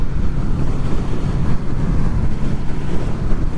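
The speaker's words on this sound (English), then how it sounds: "There's a lot of wind up here." Strong wind buffets the rider's microphone on a Honda VFR800 motorcycle up on a high, wet road at Sleddale, a loud continuous roar with no talk.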